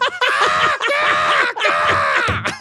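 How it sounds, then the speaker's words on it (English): Shrill, harmonic screaming alarm, likely a bird-styled alarm clock, blares continuously in three long bursts with brief gaps, loud and close with no talk over it. "You can set the alarm to scream like that."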